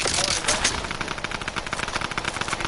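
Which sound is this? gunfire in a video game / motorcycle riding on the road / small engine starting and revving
gunfire in a video game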